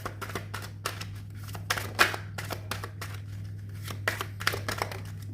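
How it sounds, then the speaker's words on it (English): Romance angel cards shuffled over and over during a card reading, a string of crisp card slaps and riffles in irregular bursts, close and moderately quiet over a steady low hum. "I shuffle and shuffle till I can't shuffle no more."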